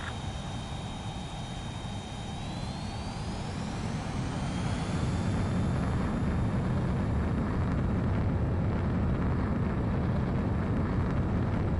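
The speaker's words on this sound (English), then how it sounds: "The base commander's transport craft has taken off." A base commander's transport aircraft takes off in Ace Combat 7, its engine whine climbing in pitch as a broad roar swells louder and then holds steady and close.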